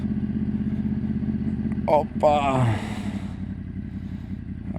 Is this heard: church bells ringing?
no